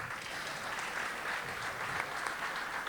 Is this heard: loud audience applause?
yes